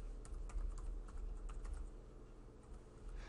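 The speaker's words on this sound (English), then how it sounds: "select sign in and then type in their username" Quiet, rapid keystrokes on a computer keyboard as a username is entered, a steady patter of light clicks with no talk.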